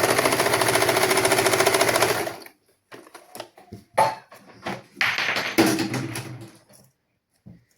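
A sewing machine stitches a sari blouse at the back neck and shoulder seam, a steady rapid close whir for about two seconds, then stops and gives way to scattered taps and fabric handling noises.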